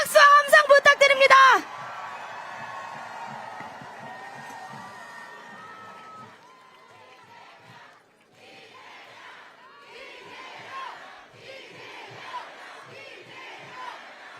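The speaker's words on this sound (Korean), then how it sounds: "다시 한번 뜨거운 박수와 함성 부탁드립니다." At an outdoor political rally in Seoul for candidate Lee Jae-myung, a crowd bursts into loud cheering and shouting for about a second and a half. Quieter crowd noise and amplified speech follow.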